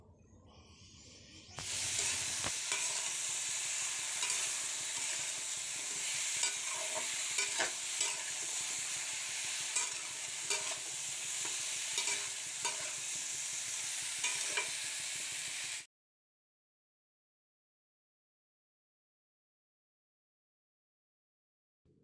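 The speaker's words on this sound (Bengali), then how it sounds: "আলু বেগুনটা আমি একসাথেই ভেজে নেব" Potato and eggplant strips frying together in mustard oil in a pan, a continuous close sizzle with intermittent stirring scrapes and pops, starting after a brief quieter lead-in and stopping abruptly.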